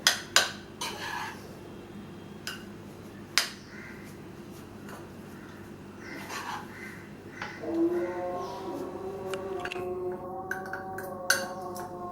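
Utensil scrapes and clinks as rava kesari is moved from the cooking pan into a household serving pan, with sharp metallic taps and scraping through the clip and a steady hum underneath, no talking.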